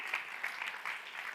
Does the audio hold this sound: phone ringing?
no